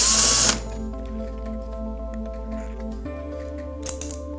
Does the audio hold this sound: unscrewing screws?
yes